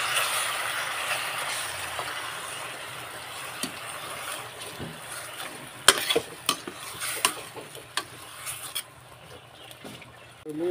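Squid adobo with tomatoes is stirred in a pan, giving a low, steady sizzle with a run of irregular spatula knocks and scrapes that grow more frequent midway.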